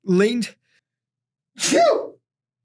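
A single loud sneeze, preceded by a short sharp intake of breath, followed by silence.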